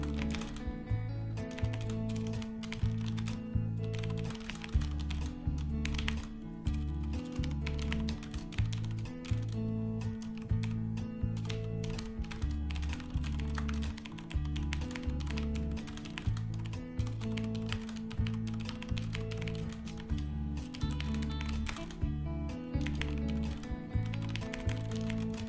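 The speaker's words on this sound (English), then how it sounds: "I'm typing this out so everybody can see it in text as well." Computer keyboard typing runs in quick, irregular bursts of clicks over a steady background music bed, close and continuous for about twenty-five seconds.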